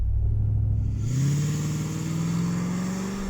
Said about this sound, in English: time to find out how quick this can do 0 to 60 miles an hour and the standing quarter mile